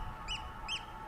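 Pigeons calling at an old sea fort in an estuary, two short separate calls against steady outdoor background noise.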